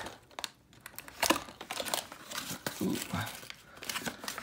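Plastic packaging from a small Mega Construx Halo toy set gets crinkled, tugged and torn open up close, with irregular crackles and rips under occasional talking.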